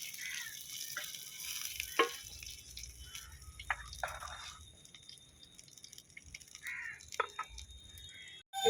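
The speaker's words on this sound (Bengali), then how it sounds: "বেগুনটাও ভেজে নিই" Eggplant slices fry in oil in a pan, a quiet, even sizzle with scattered sharp pops and spits, close and steady, with no talk.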